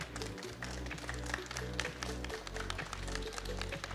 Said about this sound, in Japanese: 皆さん改めまして大きな拍手をお願いします。